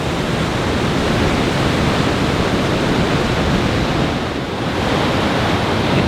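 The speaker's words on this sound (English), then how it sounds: "we can hear the water rushing just beyond" Fast-moving water rushing through Mistaya Canyon in the Canadian Rockies, a loud, steady broadband roar that holds unbroken and close throughout, with no voices.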